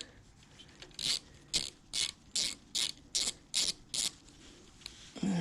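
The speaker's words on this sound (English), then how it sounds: "So we'll see if we can get these screws out first." A hand ratchet works screws loose from the horn mount of a 2008 Harley-Davidson Sportster 883C, giving about nine crisp, evenly spaced bursts of clicking close up with short pauses between them.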